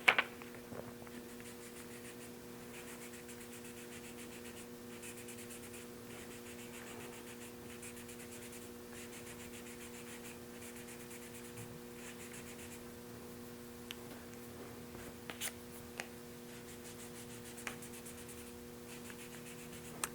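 Soft, steady rubbing of fine hand sanding on a dust nib in motorcycle paint, a faint continuous scratchy hiss with a few light taps, over a low background hum, no talking.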